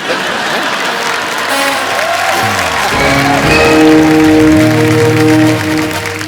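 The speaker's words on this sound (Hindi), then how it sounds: "एक बार जोरदार तालियां मिस्टर शाहरुख खान" Studio audience applauds Shah Rukh Khan on the set of a comedy talk show, a dense, steady clapping wash that carries over layered music with sustained tones and swells in the middle.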